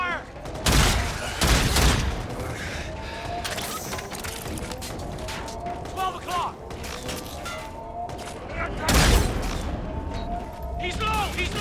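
Heavy gunfire in Call of Duty: Infinite Warfare, with repeated loud bursts and booming shots over continuous combat noise, and shouting voices mixed in throughout.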